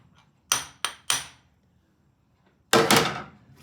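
Three quick sharp hammer taps, then a pause and one heavier ringing strike, close by with no talking.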